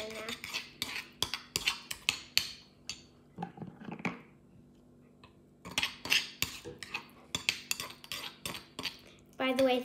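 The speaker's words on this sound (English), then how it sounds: "I'm going to mix it together now." A spoon stirs an avocado and aloe vera face mask in a bowl, giving quick rhythmic clinks and scrapes in close bursts with a short pause midway.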